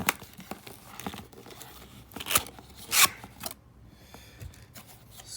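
Packaging for a Milwaukee 2962-20 1/2-inch drive mid-torque impact wrench being cut open, with close crinkling plastic, a few sharp snips and tearing rips, the loudest around the middle, with no talking.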